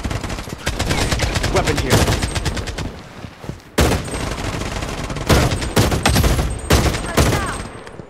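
AR97 rifle fire in Blood Strike: rapid automatic bursts repeated over several seconds, broken by short pauses, loud and close with dense crackling shots throughout.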